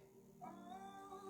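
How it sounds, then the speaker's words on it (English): A male cat lets out one drawn-out, wavering meow close by, starting a beat into the moment and carrying to the end over a faint background hum. "Can you hear the cat?"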